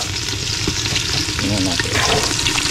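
Garlic frying in a pan, a loud close crackling sizzle with steady popping bursts throughout.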